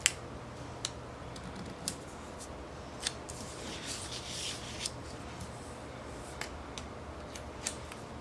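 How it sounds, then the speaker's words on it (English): Scissors cut apart sheets of planner stickers, close by, with a sharp snip roughly every second over quiet paper rustling and handling. "I'm gonna cut these apart as I don't really need a 3 giant floral design."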